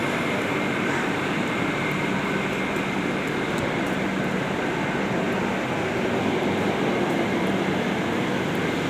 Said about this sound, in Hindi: ये कोलकाता से गोरखपुर जाने वाली पूर्वांचल एक्सप्रेस।